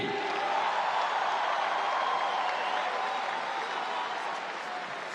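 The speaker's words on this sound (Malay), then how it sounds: "Tepukan gemuruh kepada PMS sekali lagi." Dense, sustained crowd applause at an outdoor Palestine solidarity rally, a steady roar of many hands filling the whole stretch and easing only slightly toward the end, with a faint voice over the PA mixed in.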